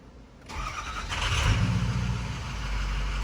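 A 6.0 Powerstroke diesel truck on a dyno cranks briefly, then fires and settles into a rising, rumbling idle. Close and loud, with no talk.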